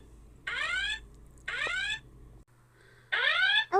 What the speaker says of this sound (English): Oh no, it's the fire alarm.